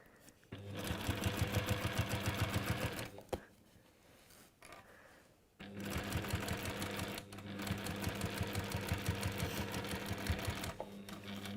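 A sewing machine stitching a quarter-inch seam on textile work runs in two long, steady bursts of rapid mechanical clatter, separated by a quiet pause with faint handling, close and clear.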